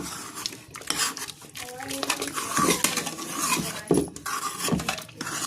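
A metal masher or spoon works mixed vegetables for pav bhaji in a pot, giving repeated clanks, scrapes and thuds against the vessel while people talk nearby.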